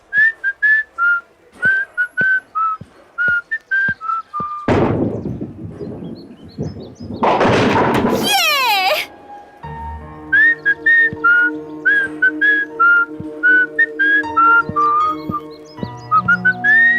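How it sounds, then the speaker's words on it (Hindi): A person whistles a melodic tune in a series of short, bright phrases, interrupted midway by a loud burst of noise and a sweeping effect before the whistled melody resumes over a low sustained tone. "सीटी तुम बहुत अच्छा बजाती हो।"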